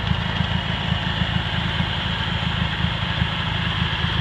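A Cub Cadet 782 lawn tractor engine idles steadily close by, with a low, evenly pulsing thrum and broad mechanical hiss that continue without a break.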